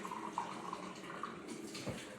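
Hot water runs steadily from a kitchen tap, a constant hiss with splashing, fairly faint and close, while making simple syrup for an iced matcha latte.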